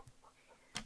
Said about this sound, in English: So if you hear her panting, that's what's happening down there.